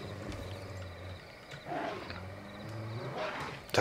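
A wolf in the video game Far Cry 5 growls and snarls in a few rough, low bursts, fairly close, with some game ambience and no speech.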